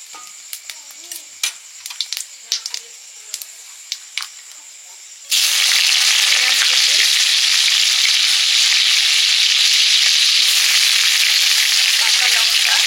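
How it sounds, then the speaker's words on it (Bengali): Whole cumin and whole garam masala hit hot oil while tempering ghugni, jumping from quiet scattered crackles and pops to a loud, steady sizzle that fills the rest of the time with no talk. "এবার ঘুগনিটা ফোড়ন দিয়ে দেব। গোটা জিরে আর গোটা গরম মশলা,"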